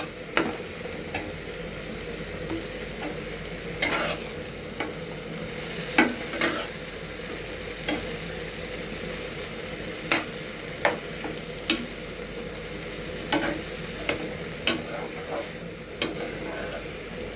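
Ginger-garlic paste fries in hot oil and is stirred in a pan, a continuous low sizzle broken by sharp, irregular scrapes and clinks of a spatula against the pan, close and alone without talk.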